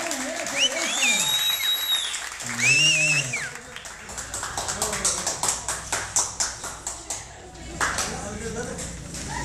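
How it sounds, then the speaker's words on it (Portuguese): A small group at a church gathering breaks into applause, a run of light, fairly sparse claps building after some speech-like sounds and fading near the end. "Uma salva de palmas pra Gi, né? Mais forte aí, palma aí"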